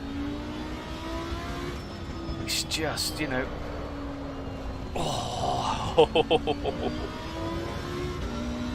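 Lamborghini race car engine in Assetto Corsa Competizione, droning steadily with a few brief sharp pops mid-clip and a quick stutter of exhaust crackles near the end, heard under someone talking.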